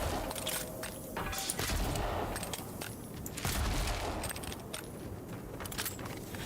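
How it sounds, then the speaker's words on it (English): Gunfire cuts down spiders in a video game as rapid, sharp bursts of shots crackle over a busy, noisy game soundscape that rises and falls throughout. "The spiders are so easily killed by gunfire, it's hilarious."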